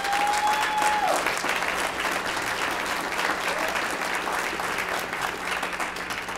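A crowd at a city State of the City address gives sustained applause to the municipal purchasing team, a broad, even wash of many hands clapping throughout, with a brief whistle-like tone near the start.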